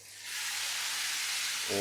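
Potato cooking water poured into a pan of frying mushrooms, bursting into a loud, steady hiss and sizzle that rises quickly and holds, close up with no talk.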